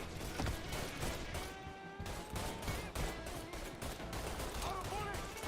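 Gunfire rattles nonstop in the Mafia 3 video game, with rapid bursts and single shots packed densely over a loud din and voices calling out between the shots.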